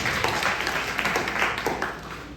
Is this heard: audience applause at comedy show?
yes